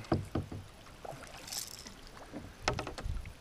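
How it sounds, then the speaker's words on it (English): Paddles dip and knock against a small boat on the water while fishing for cod, with a few sharp strokes and splashes near the start and a cluster near the end, over light wind. "Adele on the paddles, working nicely up the front, allowing Dad to do the cast into the side near the structure"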